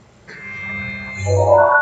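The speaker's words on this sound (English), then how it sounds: "If we're listening to opening the map screen, it sounds like this." A short synthetic game menu chime swells in, with a soft tonal shimmer and a brighter, louder layered tone near the end, no voices.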